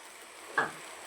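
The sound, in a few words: spices frying in oil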